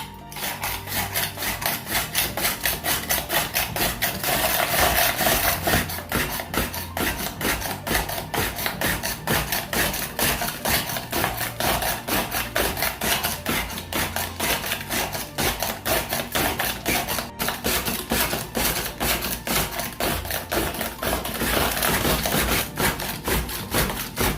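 Close, loud and continuous rhythmic scraping of a hand tool across a block of ice to shave it for Veracruz-style raspados, with rapid, even strokes repeating steadily throughout.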